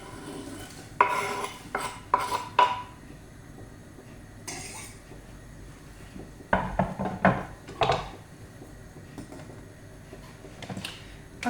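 Onion tipped into a pot of boiled beans in a home kitchen. Scattered metallic clinks, scrapes and clatters of utensils against the pot come in short bursts, separated by quiet pauses.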